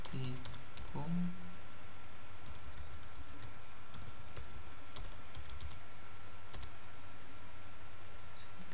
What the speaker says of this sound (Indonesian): Caranya kita ketikkan saja nano